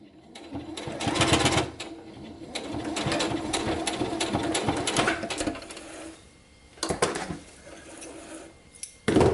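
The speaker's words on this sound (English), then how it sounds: "just sewing over top of my basting" Domestic sewing machine stitching through fabric over basting thread, bursts of rapid mechanical whirring that start and stop, with pauses and a final short run, without speech.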